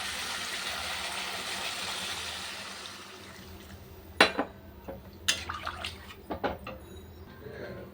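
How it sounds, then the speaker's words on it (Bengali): Water is poured into a cooked fish curry masala in a pan, a steady rushing hiss for about three seconds, followed by scattered close clinks and knocks of utensils against the pan. "এবার জল দিয়ে দেবো"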